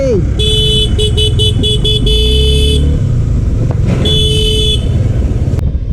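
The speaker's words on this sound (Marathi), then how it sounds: "अरे बापरे परत आली ही कचऱ्याची गाडी" A garbage truck passes through busy road traffic while horns honk close by in repeated short and long toots, over loud engine rumble, with people talking nearby.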